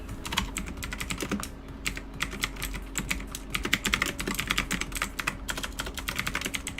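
Rapid clicks of typing on a computer keyboard, close and crisp, in irregular bursts of keystrokes with brief pauses, no voices.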